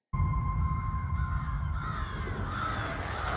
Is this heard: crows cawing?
yes